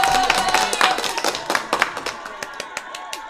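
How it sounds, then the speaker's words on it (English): Scattered hand clapping with a few cheers at a crochet party, irregular claps popping over a busy, mid-level background with a steady tone running underneath. "Can you hear the cheering?"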